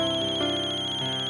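A mobile phone ringtone plays loud and close, a bright electronic melody with shifting tones and no voices over it.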